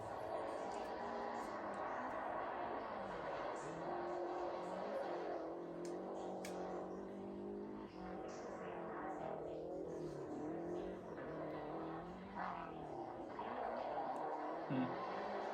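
Rally cars drifting, engines revving and droning with shifting pitch as they slide through corners, heard at a distance and partly under people talking excitedly over them.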